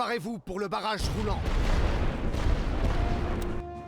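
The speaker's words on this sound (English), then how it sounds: "are now hitting us with artillery" Artillery fire in the World War I video game Elite Great War Western Front, a dense rumbling barrage of booms and crackling explosions that follows a brief stretch of speech and rolls on loudly to the end.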